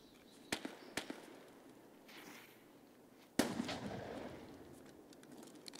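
Sharp gunshots in Escape from Tarkov: two quick cracks, a pause, then a heavier boom with a lingering rumbling tail, all fairly distant against quiet background.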